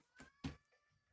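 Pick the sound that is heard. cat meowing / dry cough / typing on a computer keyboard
cat meowing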